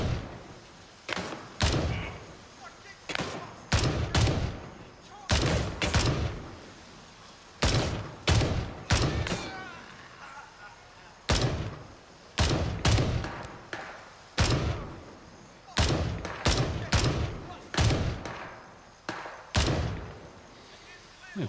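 Gunfire in the military shooter Gray Zone Warfare: repeated loud close shots and short bursts in irregular clusters with brief pauses between them, sharp and booming, filling the whole stretch.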